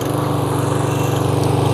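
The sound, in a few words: Toro Super Recycler walk-behind lawn mower engine starting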